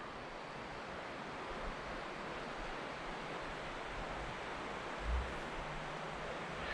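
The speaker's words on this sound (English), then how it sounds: "River's running nice this time of year." Steady broadband rushing of flowing water, continuous and fairly loud with no breaks, and one brief low thump partway through.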